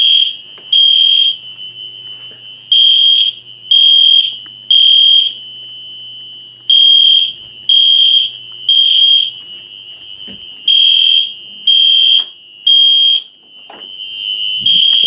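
Gentex Commander and EST fire alarm horns sound during a system test, blaring loud, piercing tones in a repeating temporal code-3 pattern of three blasts and a pause, close and with no talk.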